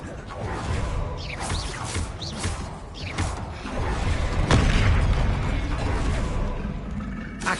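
Spell-casting blasts in Hogwarts Legacy, several whooshing bursts and booming impacts layered with mechanical creaks, loud and close, with some faint voice in the background.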